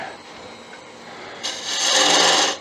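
A detail gouge cuts into spinning wood on a lathe for a pizza cutter handle, a soft rasp swelling into a loud, bright, sustained shearing hiss.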